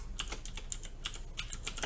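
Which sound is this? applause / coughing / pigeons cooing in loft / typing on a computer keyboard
typing on a computer keyboard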